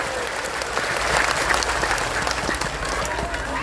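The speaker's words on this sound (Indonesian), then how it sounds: "Sekali lagi tepuk tangan untuk Banser Taiwan." Audience applause at an Islamic religious gathering in Taichung, Taiwan, a steady wash of many hands clapping that holds at even, moderate loudness, with a voice faintly underneath.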